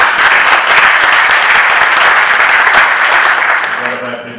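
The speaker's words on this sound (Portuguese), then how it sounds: "salve de palmas para todos nós." Loud audience applause at a Brazilian film festival awards ceremony, a thick, sustained roar of clapping close to the microphone that slowly tapers near the end as voices begin to emerge.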